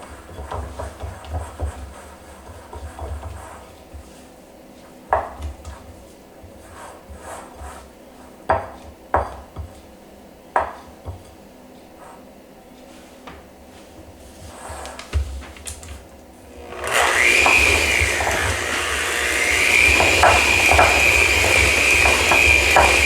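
A spoon works through a thick chocolate toffee almond fudge mixture in a bowl, making soft rubbing scrapes and occasional knocks. Partway through, a much louder, steady whirring mixing noise takes over.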